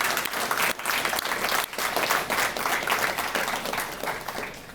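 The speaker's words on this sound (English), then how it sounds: "let's give Luane a really big round of applause" An audience at a sponsorship event applauds warmly for a Justin Boots representative, a dense steady wash of many hands clapping that fills the room without pause and fades slightly at the end.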